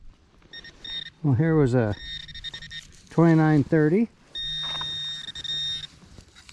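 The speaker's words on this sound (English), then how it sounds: "On to the next beep" A Minelab Equinox 800 metal detector gives steady, tonal electronic beeps, a short burst and then a longer held tone, over a quiet outdoor background while someone speaks between the signals.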